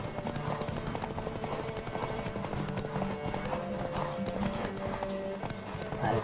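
Horse galloping in the video game The Witcher 3 Wild Hunt, with rapid rhythmic hoofbeats running through the whole stretch alongside game music and a brief whinny, heard at moderate volume.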